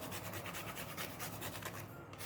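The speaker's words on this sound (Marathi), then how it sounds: "आता यामध्ये थोडंसं जायफळ हे किसून घ्यायचं आहे अगदी स्वादापुरतं चवीपुरतंच किसून घ्यायचं आहे" Nutmeg is grated against a small grater in quick, rhythmic rasping strokes, close and soft, with no voices.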